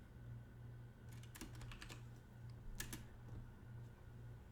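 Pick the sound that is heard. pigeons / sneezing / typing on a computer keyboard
typing on a computer keyboard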